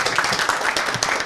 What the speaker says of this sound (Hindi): ताली तो बनती है एक बार